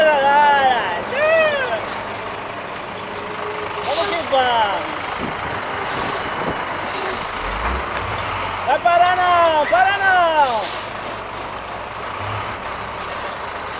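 Heavy truck traffic on the Serra das Araras mountain road, with engines rumbling, air brakes hissing and repeated high tonal beeps, while people shout excitedly close by.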